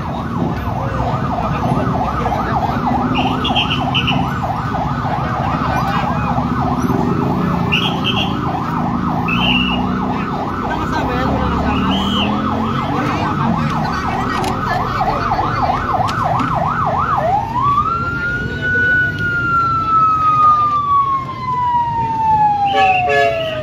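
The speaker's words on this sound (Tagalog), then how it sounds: "Ito, sunod-sunod na yung ambulansya, no?" A wailing ambulance siren warbles rapidly for several seconds, then shifts to a long rising and falling wail, loud over constant traffic noise and a voice, at a road accident scene in Naic, Cavite.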